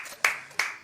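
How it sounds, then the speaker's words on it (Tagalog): Two sharp hand claps from one person, close to the mic and evenly spaced, rising out of a quiet background during a VALORANT Masters Tokyo esports broadcast. "Pumapalakpak ako, guys."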